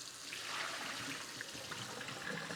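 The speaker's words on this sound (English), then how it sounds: "I've already cut up a potato into French fries, put that into water. We're going to rinse these" Cut potato fries are rinsed in water, giving a continuous faint splashing, running-water wash like a tap or sink, steady throughout with no talking.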